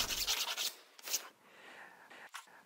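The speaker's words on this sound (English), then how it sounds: "I'll deburr these edges with a file" Hand file deburring cut aluminum sheet edges, a few short scraping strokes with pauses between, close but fairly quiet.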